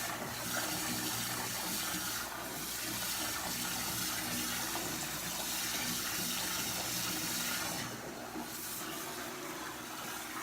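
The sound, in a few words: water running into a bath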